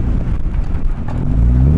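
A Jeep engine revs with a deep, loud, steady roar while stuck in snow on a mountain pass, close by and swelling slightly toward the end, with some wind buffeting and no talk.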